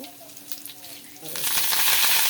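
Mustard seeds, cumin and dried red chillies hit hot oil, a quiet sizzle that swells into a louder, hissing crackle partway through, close and steady with no voices.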